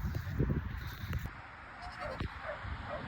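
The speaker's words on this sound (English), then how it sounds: "there's a little Billy goat" A little billy goat on a smallholding gives a short bleat outdoors, moderately close, amid quiet farmyard ambience and light rustling.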